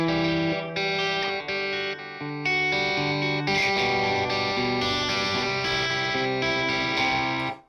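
Electric guitar through an Audority Tubescreamer-style software overdrive, playing a steady run of distorted, bright chords and notes, loud and continuous with no talking.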